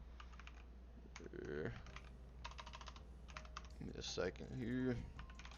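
Rapid clattering keystrokes on a computer keyboard during an Arch Linux installation, tapping in quick bursts with pauses, close and moderately loud, while someone talks over and between the typing.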